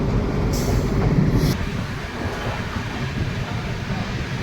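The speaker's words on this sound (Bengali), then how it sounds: "ট্রেন তার ফার্স্ট হল্ট সাঁতরাগাছি জংশন পৌঁছে গেছে।" A passenger train runs along the railway near Santragachi Junction, a steady rumbling roar of wheels and carriage noise with a brief higher hiss early on, continuous and fairly loud with no voices.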